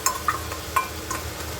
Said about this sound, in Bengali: এবার আমি কিন্তু মশলাটা দেবো, মশলাটা দিয়ে পুরো কষাবো।